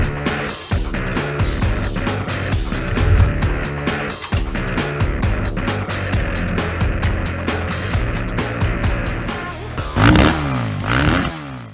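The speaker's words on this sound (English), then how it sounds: "This is 2020 YZ125X, which is your off-road race bike." A 2020 Yamaha YZ125X two-stroke off-road race motorcycle revving, its engine note rising and falling loudly and continuously with a clattering mechanical edge and brief throttle bursts near the end.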